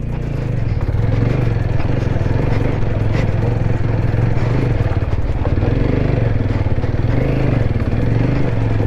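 A Ronin motorcycle on road tyres rides a rough mountain road in northern Gorkha, its engine droning loud and close for the whole stretch with constant rattling and clattering over the bumps.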